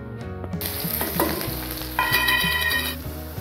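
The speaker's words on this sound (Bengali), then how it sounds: "এখানে পেঁয়াজ, কাঁচা লঙ্কা আর একটু রসুন কুচি কেটে রেখেছি, আমি দিয়ে দেবো তেলে" Chopped onion, green chili and a little garlic frying in hot oil as a tempering for a taro mash, a close crackling sizzle that grows as more goes in, while a steady electronic ringing tone sounds underneath.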